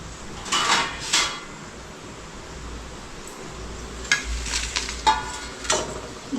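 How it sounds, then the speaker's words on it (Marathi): Chicken pieces fry in hot oil in a pan for biryani, a low steady sizzle under intermittent clatter and scraping of a utensil against the metal, close and fairly quiet. "आपण थोडासा फ्राय करूया त्याला व्यवस्थित"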